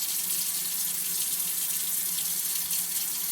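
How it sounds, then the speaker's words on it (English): A MOEN smart faucet runs hot water into a sink, a steady close hiss and splash that holds without change from start to finish. "Hey Google, ask MOEN to preheat hot water."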